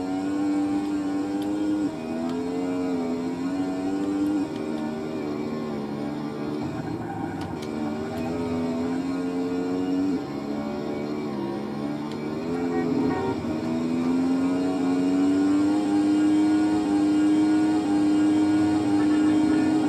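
A Vixen motorbike engine drones steadily in the video game GTA San Andreas, its pitch rising and falling as the bike drives through the game world for the whole stretch.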